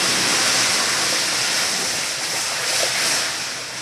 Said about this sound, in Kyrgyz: Ыстак суу куюп, муну